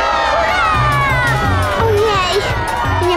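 A group of children cheer loudly for Koko in a cartoon, shouting hip hip hooray in unison with excited voices close and bright, the whoops rising together in short bursts.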